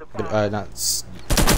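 Gunfire in a police roleplay video game: a voice speaks briefly, then a loud burst of rapid shots erupts near the end, close and sharp.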